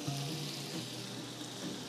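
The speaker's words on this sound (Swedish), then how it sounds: "Vi tar lite smör i." Butter sizzling in a pan on a hob, a faint steady hiss with a low background hum, no talk.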